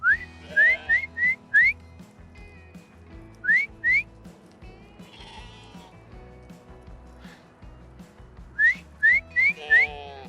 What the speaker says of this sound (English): Just start whistling and then walking towards me